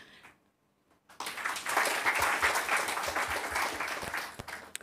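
After a brief near-silence, a church audience at a birthday commemoration for Blessed James Alberione bursts into warm, sustained applause, many hands clapping together and slowly tapering near the end.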